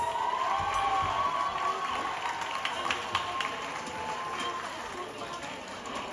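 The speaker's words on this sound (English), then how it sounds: "Let me hear a rousing round of applause." An audience at a high school prize-giving ceremony breaks into sustained applause, a dense patter of clapping that stays steady before easing slightly toward the end, with a few cheers mixed in.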